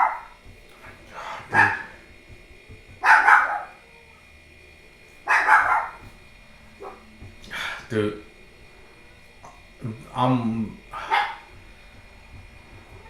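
A dog barks in repeated loud bursts, some single and some in quick pairs, fairly close, with someone talking in between the barks.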